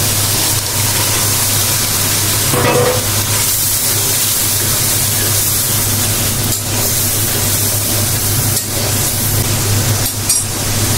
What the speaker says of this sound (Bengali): মাছটা আমি একটু কষাই নেব